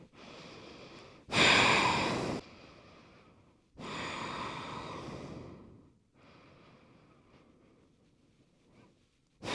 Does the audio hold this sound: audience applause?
no